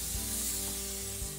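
Brief, continuous hiss of cooking spray misted onto an oven-proof baking rack, a close, steady spray lasting about a second and a half.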